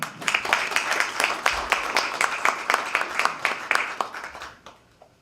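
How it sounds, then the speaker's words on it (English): A seminar audience gives a round of applause for a state senator, sharp individual claps at a steady rhythm that thin out and fade to quiet after about four seconds. "I'd like to give a nice warm applause to Senator Michael Balboni"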